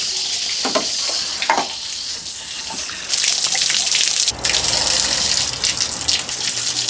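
Water from a garden hose flushing through a Dodge Ram's engine cooling system during a water pump and thermostat replacement, a steady loud gushing and spattering hiss that surges partway through, with no talk.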